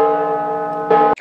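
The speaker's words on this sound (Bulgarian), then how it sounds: "Без да искам записах камбаните на Невски." Church bells of Alexander Nevsky Cathedral ring out loud and steady, a rich sustained tone with many ringing overtones, followed by a sharper fresh strike near the end.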